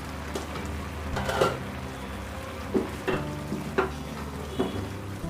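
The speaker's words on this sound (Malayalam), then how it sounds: "ഒന്ന് തുറന്ന് ഇളക്കി കൊടുക്കാം." Koottukari curry being stirred in a pot, a soft bubbling sizzle with several distinct scraping stirs at intervals, close and moderately quiet.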